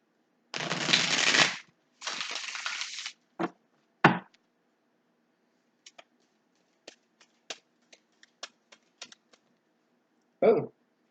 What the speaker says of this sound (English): I gotta shuffle this again.